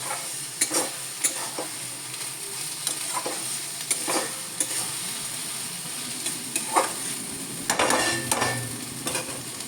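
A spatula scrapes and stirs food frying in a pan, giving repeated scraping strokes every second or so over a steady background sizzle.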